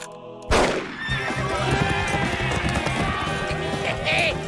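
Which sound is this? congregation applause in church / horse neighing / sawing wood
horse neighing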